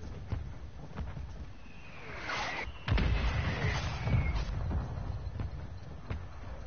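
Artillery fire mission strike in Call of Duty Warzone, with a whistling incoming shell followed by a heavy booming impact and rumbling aftershocks amid scattered sharp gunshots.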